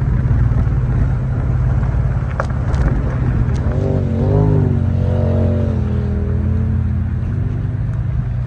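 A Ford Bronco with a transmission problem driving on an off-road trail, a steady loud engine drone with a rising rev partway through and a few clanks and knocks over the top.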